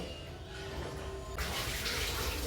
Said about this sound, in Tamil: இனி அந்த தண்ணியை கீழே கொட்டு